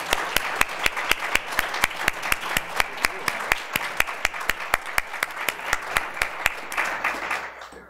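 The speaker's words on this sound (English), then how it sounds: "let us give them a round of applause" A policy forum audience on sustainable cities applauds the panelists: a steady bed of room applause with one loud, evenly paced clapper close by, beating out a regular rhythm before it all fades near the end.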